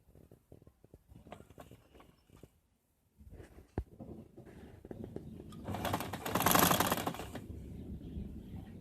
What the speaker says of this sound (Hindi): अभी इसकी सिलाई कर लेंगे अंदर से